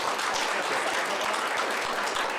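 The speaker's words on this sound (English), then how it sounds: "how about a round of applause for each of you for your work" Breakfast audience at a United Way volunteer recognition event giving a steady round of applause, a dense, even patter of many hands throughout.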